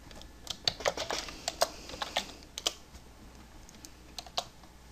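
Typing on a computer keyboard, a quick run of irregular clicky keystrokes in small clusters, close and moderately loud over a quiet hum, with no speech.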